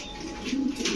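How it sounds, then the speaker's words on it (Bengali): Domestic pigeons, Lahori, racer and Giribaj breeds, give a brief, low throaty coo close by, a single swelling call with faint airy background noise around it. "প্রতিটা কবুতর দেখেন মাশাআল্লাহ খুব সুন্দর।"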